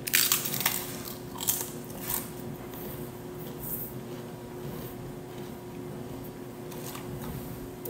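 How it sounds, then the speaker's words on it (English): Someone bites and chews a crunchy taco shell, giving a few sharp crunches near the start, then quieter chewing over a steady background hum with no talking. "It's crunchy, but it's soft in the middle."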